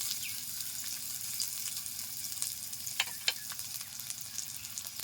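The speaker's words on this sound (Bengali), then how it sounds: "তেল গরম হয়ে গেছে, দিয়ে দিচ্ছি পেঁয়াজ কুচি" Chopped onion hitting hot mustard oil in a wok, a steady close sizzle of frying throughout with a couple of brief sharper crackles near the middle and no voices.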